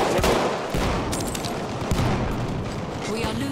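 Machine gun fire in the Battlefield 1 video game, loud dense bursts of rapid shots and booming explosions filling the scene, with voices talking over the battle.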